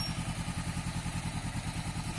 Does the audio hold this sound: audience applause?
no